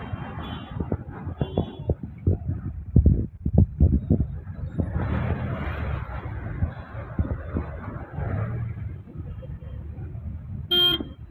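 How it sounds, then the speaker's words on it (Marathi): A traffic jam on Jangli Maharaj Road in Pune, with car engines idling and rumbling nearby and short horn toots breaking through the street noise. "पुण्यामध्ये जंगली महाराज रोडवर पूर्णपणे ट्रॅफिक जॅम आहे"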